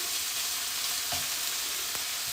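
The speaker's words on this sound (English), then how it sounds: "Just gonna brown it up." Chicken pieces browning in a frying pan over medium heat for teriyaki, giving a steady, close broadband sizzle with a couple of brief clinks or stirs.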